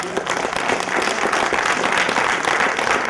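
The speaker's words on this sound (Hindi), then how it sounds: "जोरदार तालियां" A theatre audience at a stage play applauds loudly, dense sustained clapping filling the room without a break, with a voice faintly audible beneath it.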